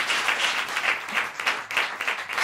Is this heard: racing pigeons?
no